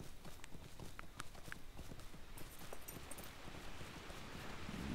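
Horse hooves clip-clop steadily at a riding pace in a video game, a continuous rhythmic patter of footfalls under a noisy, windy outdoor ambience.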